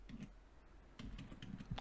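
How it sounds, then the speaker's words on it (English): Keys tapped on a computer keyboard while entering a search into Google Scholar, a few quick faint clicks in short bursts separated by a brief pause, near and quiet. "now I'm gonna type"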